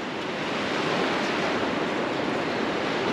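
Waves wash steadily onto a beach on the Washington coast near Forks, a continuous broad rush of surf close to the microphone with no talking.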